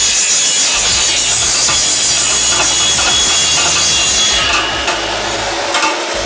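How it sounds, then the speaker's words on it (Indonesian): An electric cutting machine saws through bamboo in a village bamboo-craft workshop, giving a loud, steady grinding buzz that runs continuously for the whole stretch with no talk over it. "Oke, mesin pemotong yang biasanya kita pakai gergaji."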